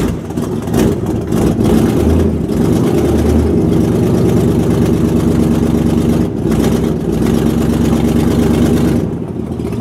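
A 1968 Buick LeSabre engine rumbles through a raw, throaty straight-pipe true dual exhaust, idling heavily with surges of revving, close and continuous.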